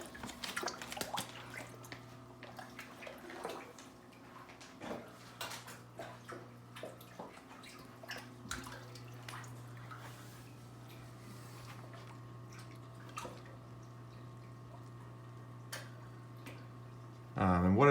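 Aquarium fish splash and slap at the water surface while being fed bug bites, giving scattered wet drips and plops over a low steady hum, with a louder splash burst at the very end.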